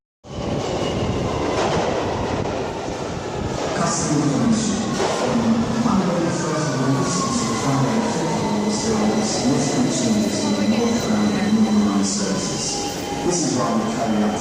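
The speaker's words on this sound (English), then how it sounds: "This is a Victoria line train travelling northbound" A London Underground Victoria line train travels northbound with a loud, continuous rumble and rail clatter, plus faint squeals. A voice talks over the noise.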